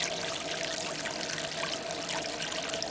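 Water pours steadily into a bucket packed with cabbage, a dense close splashing and gurgling that runs without pause.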